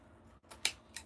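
Scissors snip through bow ribbon for a Christmas snowman wreath, with two or three quick, crisp cuts close by in a quiet room.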